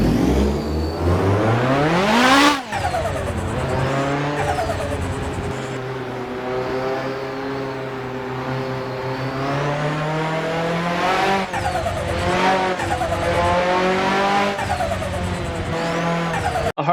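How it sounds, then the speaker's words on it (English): Straight-pipe exhaust sound mod on a car in the Assetto Corsa racing game, loud and harsh, with the engine revving up through gear changes and rising, falling pitch, plus tire squeal. "I hope you like the straight pipe sound"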